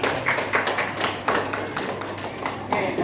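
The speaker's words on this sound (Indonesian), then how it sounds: "Ya, betul, tepuk tangan" A classroom of students applauding, a dense, continuous patter of many hands clapping at close range for a few seconds.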